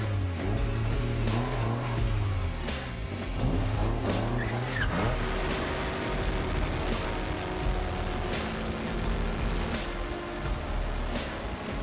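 A car is driven hard around the Nordschleife race circuit, its engine revving up and down through gear changes, with tires squealing through corners and a loud, continuous interior roar that persists throughout.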